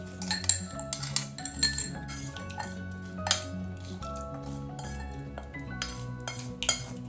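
A metal spoon clinks against a bottle and steel dishes while cooked tempering for cabbage rice is spooned in for fridge storage, a series of close, bright clinks and taps over a steady background hum.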